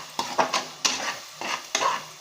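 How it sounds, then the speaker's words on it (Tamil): Ground masala for prawn biryani being stirred in a pan, a spoon scraping and clinking against the metal in several distinct strokes over a soft sizzle, close and alone without talk. "இதை நல்லா மிக்ஸ் பண்ணி விட்டுருங்க."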